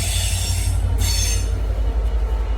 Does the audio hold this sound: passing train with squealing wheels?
yes